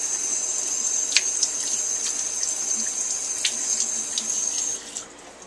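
Tap water runs steadily into a kitchen sink while a few leaves are washed under it, a constant close hiss with small splashes and clatters, cutting off near the end.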